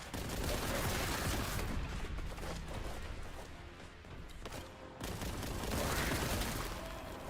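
A heavy bolt gun fires continuously in Warhammer 40,000: Boltgun, loud booming volleys with a brief lull in the middle before the barrage swells again.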